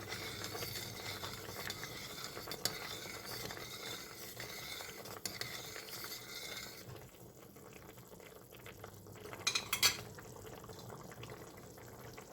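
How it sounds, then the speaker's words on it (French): A spoon stirs pasta in tomato sauce in a cooking pot, a soft continuous wet churning with a bubbling simmer beneath, then quieter with a couple of brief clinks near the end. "on tourne un petit peu dans la sauce"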